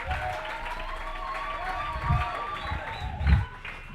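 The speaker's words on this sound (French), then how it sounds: "Acclamons très fort les Seigneurs Jésus." A church congregation applauding, a steady wash of clapping with a few louder swells, heard alongside a sustained musical tone and voices.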